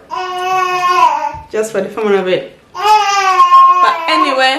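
A baby babbles and coos in high, sing-song bursts while an adult talks alongside.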